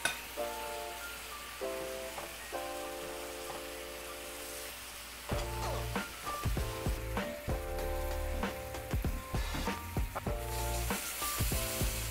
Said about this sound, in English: The soy sauce pops a lot,